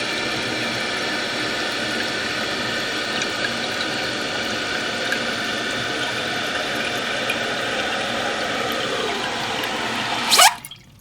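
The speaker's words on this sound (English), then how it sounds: "the tank is filling up" A toilet tank refills after a flush following a Korky universal repair kit install, with water hissing and rushing steadily into the tank at close range, then a sharp rising squeal and gurgle as the fill valve shuts off.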